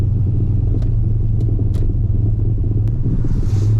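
HSV VP Senator with new headers driving over speed bumps, heard from inside as a loud, steady low engine rumble with a few faint knocks and clunks from the suspension.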